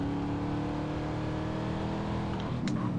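A car engine drones steadily and loudly in GTA San Andreas, holding a continuous revving hum from start to end, with a few brief clicks near the close.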